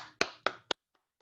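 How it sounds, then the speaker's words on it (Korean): Three sharp hand claps spaced evenly at the close of a New Year church service, followed by a couple of faint taps and silence. "살아계신 하나님께 영광의 박수 한번 올릴까요?"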